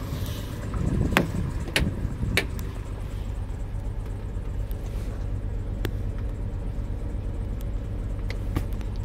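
A 2002 Oldsmobile Bravada with Smart Trak four-wheel drive idles after a cold start, a low steady rumble under repeated sharp clicks and knocks near the start, with no one speaking.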